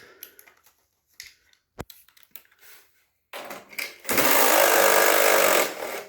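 A power tool, likely an impact driver or ratchet, backs out 10 mm bolts from a 2013-2020 Ford Fusion, C-Max or MKZ hybrid battery pack: scattered clicks and taps, then a loud, close, sustained whir for about two seconds.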